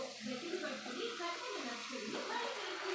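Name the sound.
water being poured into dry fish tomato curry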